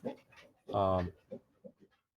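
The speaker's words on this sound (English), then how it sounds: "I have a dog and he barks at the door sometimes and lets me know he wants to go out" A pet dog whimpers and pants nearby, a short high whine followed by quick breathy pants and soft sniffs, fairly faint in a quiet room.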